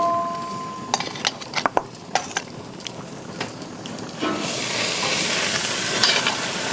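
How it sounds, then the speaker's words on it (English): Thin pork chops are laid into a hot pan, a few clacks and taps of handling, then a loud, sustained sizzle rises and holds steady. "All right, let's get these chops on."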